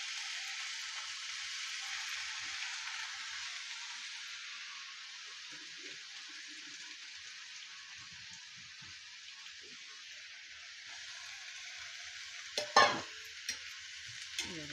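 Onions and broad beans sauté in a pan with a continuous bright hissing sizzle, close and even, with a few scraping stirs and clinks near the end; no talking.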